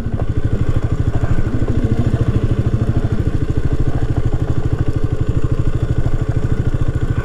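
A motorcycle engine chugs in a steady low rhythm while the bike crawls over rocks off-road near Madikeri, with clatter and thuds from the rough terrain running loud and close throughout, no talk.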